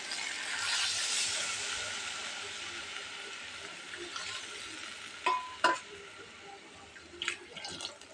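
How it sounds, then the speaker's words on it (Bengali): Water poured into a pan of fried quail meat brings a faint, broad hiss that swells early and slowly fades, followed by a few quiet clinks and stirs. "মাংসগুলো কষানো হয়ে গেছে, এখন পরিমাণ মতো জল দিয়ে দেবো।"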